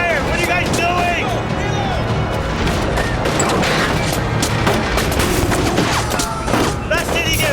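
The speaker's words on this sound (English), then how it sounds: "I have to wait for when the bullets stop firing" Steady, dense gunfire from the video game 1979 Revolution: Black Friday, a continuous loud fusillade of overlapping shots and crashes with no letup, mixed with shouting voices throughout.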